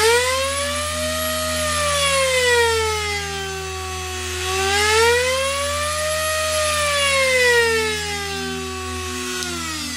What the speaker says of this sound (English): you can speed up or slow down the Dremel